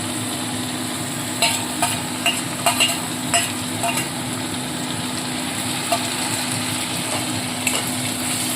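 Ginger, garlic, green chili and onion paste sizzles steadily in a pan while a spoon scrapes and stirs it in repeated short strokes, close and even.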